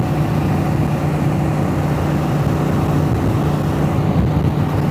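A Honda Transalp 750 motorcycle cruising on the highway gives a steady, even engine drone mixed with wind rush, constant and close with no variation.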